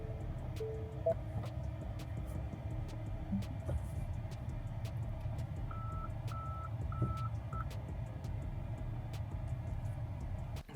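A Tesla Cybertruck in reverse gives a short series of faint, evenly spaced electronic beeps over a low steady hum and background vehicle noise.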